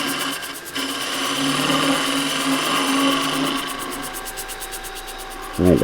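A skew chisel laid on its side cuts wood spinning on a lathe, making a steady close scraping hiss throughout with a faint whirring hum beneath, ending in a short knock.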